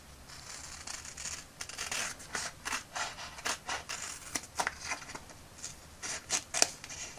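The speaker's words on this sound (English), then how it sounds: "It's taken about 10 minutes to cut out all of these stickers" Scissors snip out toy stickers for a vintage Masters of the Universe Wind Raider, a steady run of quiet, close, crisp cuts and small paper rustles, with no voices.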